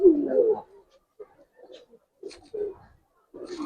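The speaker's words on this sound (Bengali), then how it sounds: "এই কবুতরটা রোড মাস্টার কবুতর ভাই" Road Master racing pigeon, several low coos in short bursts, close and fairly soft, separated by brief pauses.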